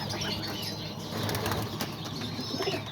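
Pigeons flap their wings in a loud, close flurry of repeated beats, with faint cooing mixed in, in a pigeon loft where baby pigeons are being raised.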